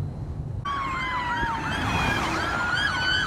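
Loud wailing sirens cut in suddenly, several overlapping and sweeping up and down, over road rumble as emergency vehicles pass close by.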